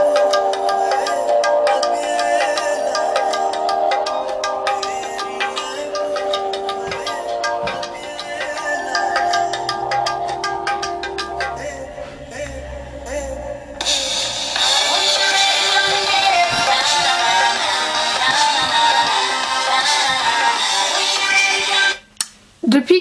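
A pop song, with Indian touches, plays loud and continuous with layered instruments and vocals, shifting to a brighter section midway before cutting out briefly near the end.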